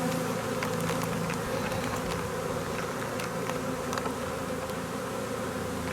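A honeybee swarm is shaken out in front of a hive, giving a dense, loud, continuous buzzing of many bees close by, with no voices.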